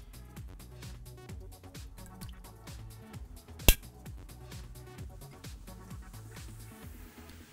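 Clear ice crackling and snapping in lukewarm water, many small irregular pops with one sharp louder crack partway through, close up and fairly quiet.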